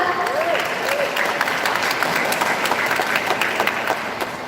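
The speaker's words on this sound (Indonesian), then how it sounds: "Boleh tepuk tangannya untuk menyemangati paslon kita." Audience at a regional election public debate applauding the candidates, steady crowd clapping with a brief voice heard over it at the start, then fading slightly toward the end.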